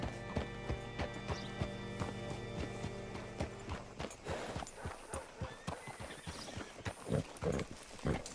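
Horse hooves clip-clopping in Red Dead Redemption 2, steady close footfalls at a walk that turn into quicker, heavier hoofbeats partway through, with a brief whinny and game ambience.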